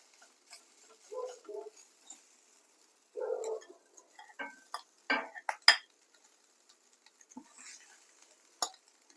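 Basmati rice goes into a pan for cashew paneer fried rice, followed by scattered soft scrapes and light clinks of a spoon stirring, with quiet pauses between.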